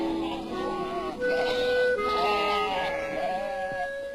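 Himalayan mountain goats bleat in a series of wavering, nasal calls, several animals overlapping at moderate distance against a steady outdoor hiss.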